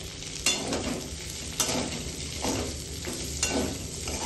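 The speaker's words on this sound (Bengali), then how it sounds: "এগুলোকে জাস্ট সতে করব, আর দিয়ে দিচ্ছি পেঁয়াজ কুচি।" Bell pepper, carrot, capsicum and chopped onion sauté in a hot pan, a steady close sizzle broken by three sharp scraping stirs spaced about a second apart.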